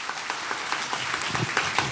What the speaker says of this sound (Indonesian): kita kasih tepuk tangan dulu dong yang luar biasa untuk Pastor Daud